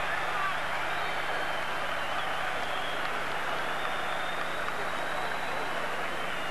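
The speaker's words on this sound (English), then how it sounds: "And the crowd bursts into applause." A boxing-match crowd breaks into sustained applause, a dense, even wash of clapping and cheering heard from a distance and holding steady throughout without letting up.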